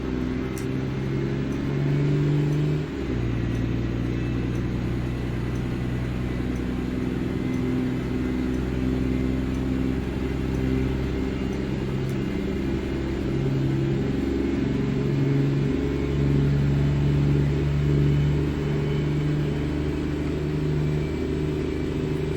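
A Mack truck engine in American Truck Simulator revs and drones steadily, a loud low rumble with shifting pitch as power rises, running continuously without any talking.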